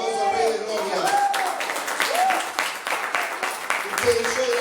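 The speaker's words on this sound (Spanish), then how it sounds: "denle un aplauso al Rey de Gloria" A church congregation at a Sunday service applauds, steady clapping throughout with voices calling out over it, fairly loud and close.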